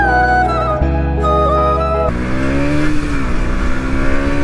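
A KTM Duke 200 BS6 motorcycle, recently crashed and due for its second service, is heard as a close, steady engine drone that shifts to a rougher, lower tone partway through.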